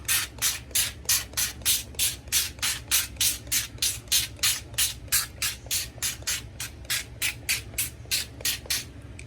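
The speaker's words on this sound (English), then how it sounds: "I'm going to spray some olive oil." Rapid, evenly spaced bursts of a spray pump hiss close by as olive oil is sprayed onto a parchment-lined tray, dozens of short sprays in a steady rhythm with no talking.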